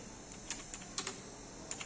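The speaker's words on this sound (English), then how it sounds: "I am typing like I want to type the important" Sparse keystrokes on a computer keyboard in a school computer lab, about seven separate taps at an uneven pace, close and moderately soft against a quiet room hum, with no voices.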